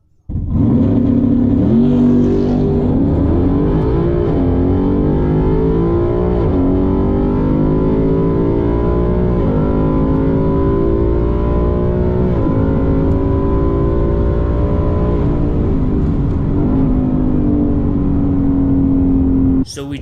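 A Ford Mustang makes a drag strip run, with its engine revving hard and climbing through several gear changes in rising sweeps for about twenty seconds, loud and close, then cutting off at the end.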